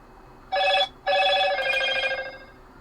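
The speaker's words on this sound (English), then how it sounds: "I don't know why my phone's screaming at me" A phone rings indoors with a loud electronic tone, one short burst followed by a longer sustained ring.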